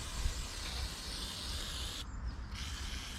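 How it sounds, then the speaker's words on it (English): A steady broadband hiss of cleaner sprayed onto a mountain bike chain runs throughout, close and fairly even, with a brief drop in the highest hiss near the end. "So I'm going to spray this on the chain, give it a good old clean"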